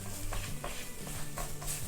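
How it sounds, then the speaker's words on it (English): Flour being stirred into pork chop gravy in a pan to cook it out, faint soft scraping strokes with a low sizzle underneath, several quick stirs over a short stretch. "Give it a good mix, and what we're doing is we're cooking the flour out."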